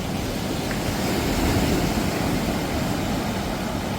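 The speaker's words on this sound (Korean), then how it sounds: "물내려 가는 소이 너무 시원하죠?" Sea water rushing and flowing on a grey, calm coastline, a loud, steady broadband wash with no breaks, heard close up.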